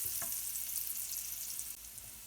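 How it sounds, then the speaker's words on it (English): Chopped onions sauté in bacon grease with a steady, close, bright sizzle that holds evenly throughout and eases slightly near the end, with no voices. "So we're gonna keep sauteing these onions."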